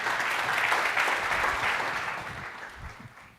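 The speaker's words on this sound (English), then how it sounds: "Big round of applause." Audience applause at a blockchain financial services conference session, a dense crowd of clapping hands, steady at first and tapering off toward the end.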